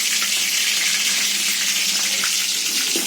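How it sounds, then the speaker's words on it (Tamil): Fenugreek seeds frying in hot sesame oil, a loud continuous hissing sizzle close up, steady throughout with no speech. "வெந்தயம் பொரிஞ்சிருச்சு"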